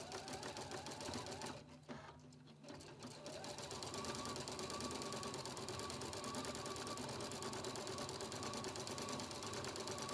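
A Husqvarna Viking Platinum Plus sewing machine stitches an embroidery design, a steady rapid mechanical whir and needle clatter that pauses briefly near the start, then resumes continuously and evenly up close.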